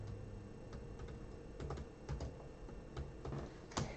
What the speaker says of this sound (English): I'm going to type it in again.